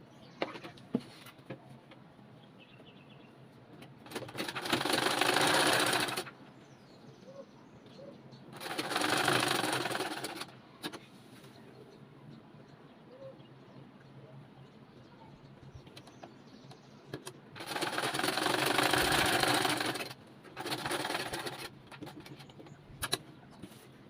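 A sewing machine stitching a flared umbrella baby frock runs in four separate bursts of steady whirring, each lasting a couple of seconds, with quiet room sound between them and no speech.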